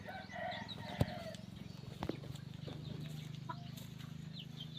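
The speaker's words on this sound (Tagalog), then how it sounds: "Nagsisiksikan sa ilalim ng tinanim po natin Chinese bamboo kasi mas malamig po dyan sa ilalim." Free-range chickens crowd in the shade under planted Chinese bamboo on a sunny day, clucking continuously at close range. A few louder calls stand out over a steady background of farmyard murmur.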